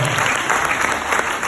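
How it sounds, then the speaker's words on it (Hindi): Dense, steady audience applause fills the hall at a devotional spiritual talk, many hands clapping together loudly and continuously without pause. "तालियां बनी पड़ी"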